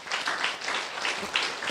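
Audience clapping hard at a night revival meeting of a church congregation, a dense continuous patter of hands that swells in bursts, loud and close, with no talk over it.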